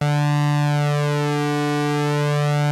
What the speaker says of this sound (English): you can hear them rubbing against each other as it slowly goes in and out of tune